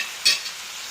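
A spoon stirs grated coconut, turmeric and curry leaves in a hot pan for a Kerala drumstick thoran, one short close scrape over a faint steady sizzle.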